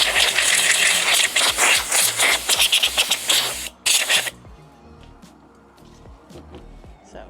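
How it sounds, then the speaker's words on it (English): An air compressor nozzle blasting sanding dust off a surfboard, loud bursts of hissing air for about four seconds, then a sudden stop into quieter rustling and handling noises close by. "we have an air compressor and I'm just gonna shoot it all over this, get the dust out"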